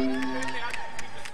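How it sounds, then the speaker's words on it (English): A Super Smash Bros singles tournament audience cheers and shouts in a sustained crowd roar beneath a commentator's speech. "Ohio's cheering for Amida right now."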